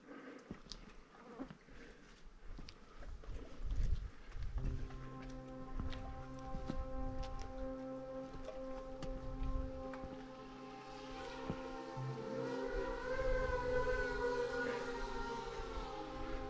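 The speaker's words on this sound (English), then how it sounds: "There's a drone." A drone hovers over a river gorge on a trail in Kalbarri, Western Australia, its whining, insect-like buzz rising in pitch and growing nearer and louder, with faint footsteps and outdoor ambience underneath.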